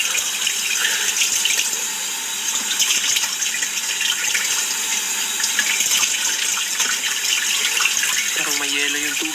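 Cold tap water gushes steadily into a sink, a loud continuous broadband rush that lasts throughout, with a voice briefly speaking near the end.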